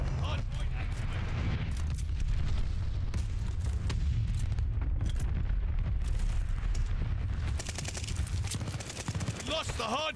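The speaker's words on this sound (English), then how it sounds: "Friendly bombing run on the way. Friendly sending a glide bomb." Bombing-run explosions from a friendly glide bomb in the Call of Duty Vanguard multiplayer game, with dense rumbling blasts and crackling gunfire that continue steadily throughout, plus brief game voice callouts.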